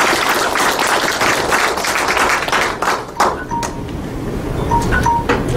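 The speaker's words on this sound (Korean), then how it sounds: "큰 박수로 환영해 주시기 바랍니다." A room full of people applauds at a presentation, dense steady clapping that continues throughout, with a few sharper individual claps standing out toward the end.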